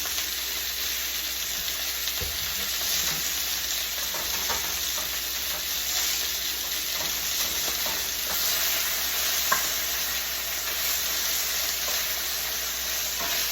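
Beef and noodles for Mongolian beef with fried noodles sizzle loudly and steadily in freshly added vegetable oil, a dense continuous hiss with faint occasional crackles and stirring noises.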